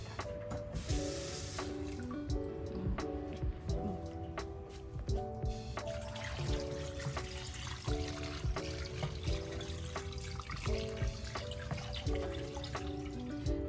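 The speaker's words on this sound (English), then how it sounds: "I'm gonna add some water." Water pours steadily into a metal pot on a stove for Liberian GB soup, a continuous splashing stream with faint clinks and background hum, no talking.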